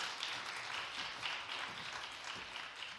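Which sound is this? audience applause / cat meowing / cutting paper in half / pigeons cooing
audience applause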